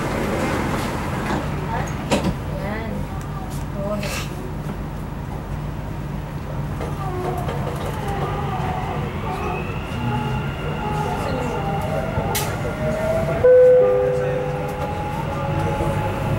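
A Dubai Metro train at a platform, heard from inside as its doors close and it pulls away, with a steady rumble and rising motor whine, while an announcement voice speaks over the noise.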